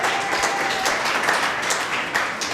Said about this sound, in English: Let's give her a round of applause back there.